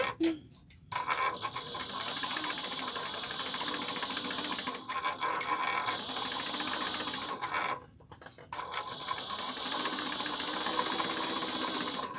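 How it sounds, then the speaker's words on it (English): A sewing machine runs close by, stitching fabric with back stitches at the start and end of a seam. It gives a fast, even mechanical whir that stops briefly twice and then starts again. "Make sure you back stitch at the beginning and end."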